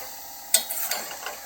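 Sweet pongal mixture with jaggery being stirred in a pan over low heat: a few quick scraping clicks of a spoon against the pan, moderately loud, with no talking.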